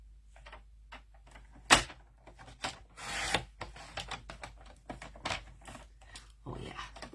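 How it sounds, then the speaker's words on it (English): A paper trimmer cuts cardstock in a stamping craft studio, with scattered short slides, clicks and rubbing sounds close by, one sharp snap and a longer blade pass, and no talk. "I am going to get my trimmer out"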